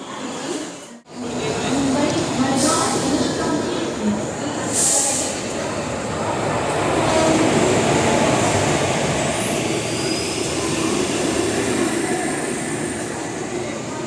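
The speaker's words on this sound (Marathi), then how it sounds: "आपली जनशताब्दी एक्सप्रेस आली आहे" The Dadar–Kankavli Jan Shatabdi Express rumbles steadily nearby as it arrives at a station, a broad, sustained roar with a brief cutout early on and a faint high squeal later.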